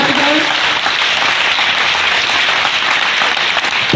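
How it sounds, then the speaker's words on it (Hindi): Loud, sustained applause from a large crowd of children at a Babasaheb Ambedkar Mahaparinirvan Diwas event, steady and dense throughout, with no pauses. "एक बार उनके सम्मान में जोरदार तालियां बजाई जाए।"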